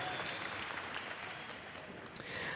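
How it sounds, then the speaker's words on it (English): A graduation audience gives steady, dense applause, many hands clapping together in a continuous wash that holds evenly from start to finish. "Can we give Colonel Mincer one more round of applause?"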